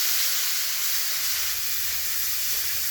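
Spice paste of turmeric and chilli powder with a splash of water being fried in a pan for khichuri, giving a steady, close sizzling hiss that holds evenly throughout, with no voices.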